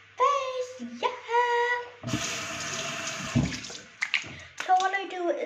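A bathroom tap runs water in a steady rush for about two seconds while someone dampens their face, with a child's excited chatter before and after.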